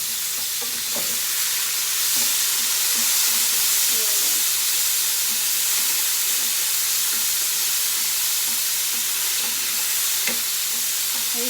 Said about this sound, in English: So I'm just going to cook the bacon first, quite quickly